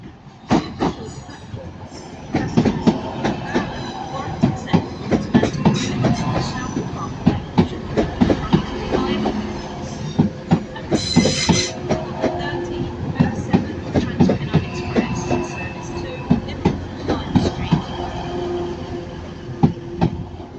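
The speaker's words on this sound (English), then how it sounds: "And also now arriving is the Northern service to Manchester Airport" Northern diesel multiple unit at Manchester Piccadilly station, with rhythmic clickety-clack of wheels over rail joints and rumbling rail noise, a station announcement voice heard intermittently over the train.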